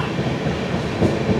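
The 13149 Kanchan Kanya Express from Sealdah to New Mal Junction rolls along steadily, a continuous close rumble of wheels and carriages with a faint rhythmic clatter and no voices.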